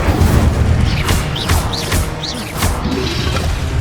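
An Incendio fire spell cast in Hogwarts Legacy gives loud whooshing bursts with rising magical chimes, repeating several times over a rumbling game ambience.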